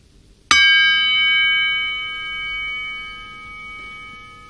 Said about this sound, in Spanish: me despido con el gong